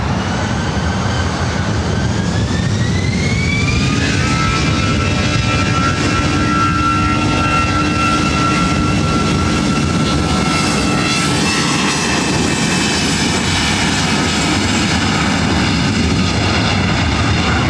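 A Delta airliner takes off from runway 24 right at LAX, a loud, continuous jet roar that swells with rising engine whine and rumbles on throughout without any talk.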